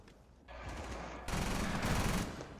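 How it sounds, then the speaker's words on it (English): Rapid bursts of gunfire in the tactical shooter Rainbow Six Siege, starting softer and swelling into a loud, dense volley of shots near the end, with no voices over it. "Wow, I shot you in the head"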